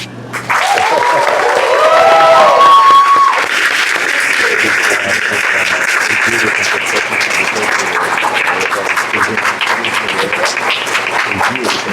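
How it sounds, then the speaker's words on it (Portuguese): Audience applause fills an awards ceremony for a game jam, a dense, steady clapping that swells early, then holds loud and continuous for about twelve seconds, with a few brief tonal sounds near the start. "em 7 minutos de aplauso"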